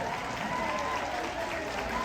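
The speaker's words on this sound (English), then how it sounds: "You're clapping for us." Steady clapping from a convention crowd at a Supernatural fan event in Chicago, a dense continuous patter without peaks that carries on throughout.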